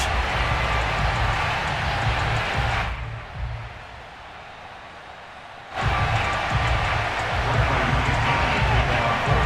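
Stadium crowd noise in an EA Sports NFL video game, a matchup against the Tampa Bay Buccaneers: a steady loud roar that cuts out abruptly for a few seconds, then returns at full level.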